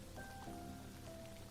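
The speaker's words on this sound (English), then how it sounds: "It's raining again." Rain falls steadily in a minimalist survival city-builder game, a soft, even hiss of drops that stays faint throughout, with a few thin tonal notes drifting over it.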